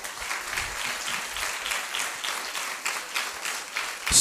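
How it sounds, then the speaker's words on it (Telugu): A church congregation claps together in sustained, rhythmic applause, fairly loud and steady throughout, rising at the very end. "శక్తి కలిగిన వారందరూ ఒకసారి చప్పట్లు కొట్టండి."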